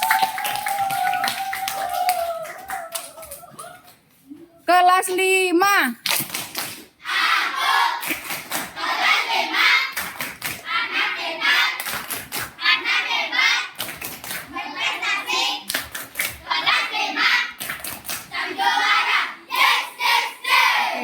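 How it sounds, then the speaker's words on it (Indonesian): Schoolchildren in a fifth-grade classroom clap their hands in quick bursts of rhythmic patterned clapping, close and lively, alternating with a teacher speaking and children's voices. "Oke, tepuk tangan dulu semuanya."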